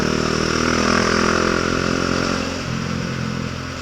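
A motorcycle rides through Manila traffic, its engine droning steadily and loudly throughout, easing slightly toward the end, with no voices.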